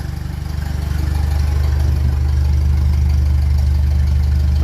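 A 1957 Ferguson 35 tractor running on TVO ticks over at a low, steady idle, a close, loud, rhythmic chugging thrum that swells slightly and holds even without voices.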